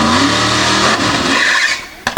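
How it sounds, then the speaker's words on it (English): A nitrous drag racing truck at a Sanford drag event purges its nitrous with a couple of sharp squirts and then launches, its engine roaring loud and close before cutting away abruptly. "Listen to this thing pop. Couple of squirts as he purges the nitrous, and a go."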